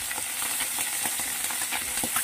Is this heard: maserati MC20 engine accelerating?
no